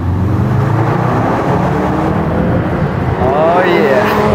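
A Ford Focus RS rallycross car accelerates hard in a tunnel with the window down, its loud engine roaring steadily up close and rising in pitch toward the end.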